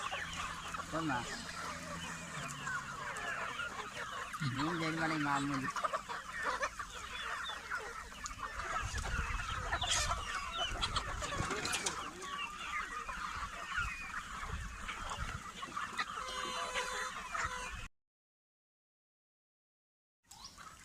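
Asil cross chickens cluck and call continuously in a poultry yard, a busy mix of clucks and a few louder squawks up close, with goose-like honks among them, before a short silence near the end.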